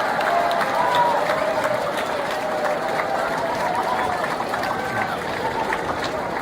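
Students at a college event give a big welcoming applause to first-year freshers, a steady, dense clapping from a large crowd with mixed voices and chatter underneath, continuing evenly throughout.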